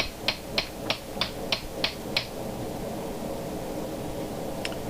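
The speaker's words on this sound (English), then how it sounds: "I'm using probably about 1/4 inch of the chisel, the slitting chisel at the one side." Steel hammer striking a slitting chisel into wood while pulling a dragon's tooth: seven sharp, evenly spaced blows over about two seconds, then only steady room hum and a faint tap.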